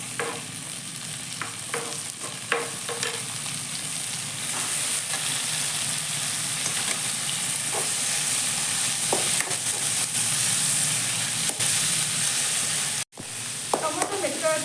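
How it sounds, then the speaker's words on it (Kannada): Tomatoes frying in a pan for a tamarind-style gravy give a steady, close sizzle that runs throughout, with occasional scrapes and clicks of stirring and one brief sharp drop-out near the end. "ಟೊಮೊಟೊ ಮೆತ್ತಗಾಗೋ ತನಕ ಫ್ರೈ ಮಾಡ್ಕೋಬೇಕು"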